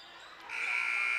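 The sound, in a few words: first quarter buzzer at basketball game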